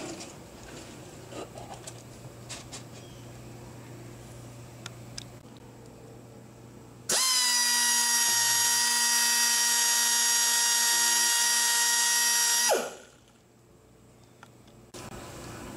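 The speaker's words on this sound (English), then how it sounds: "Grind off one pin head at a side link." A grinder cuts off a pin head at a side link of a Ramsey silent conveyor chain, a loud, high steady whine that starts abruptly, holds for about six seconds, then winds down, with quiet clinks before and after.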